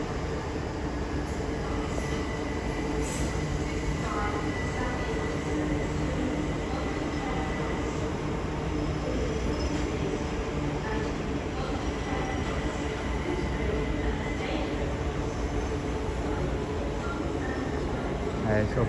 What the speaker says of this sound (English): So off goes the 1555 South Eastern service to Hastings